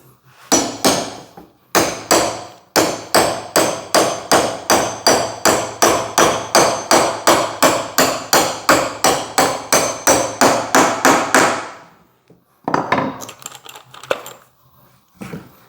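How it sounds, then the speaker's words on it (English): Rapid, regular hammer blows drive pine pieces into drilled holes in a long steady series, loud and close, then pause before a few more irregular taps. "Probably have to use a little hammer persuasion to get these in."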